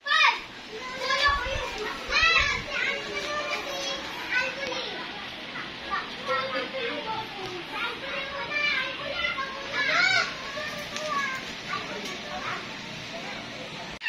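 A crowd of children plays noisily nearby, with a constant stream of shouting, chattering and squealing voices lasting the whole stretch at moderate, fairly close range.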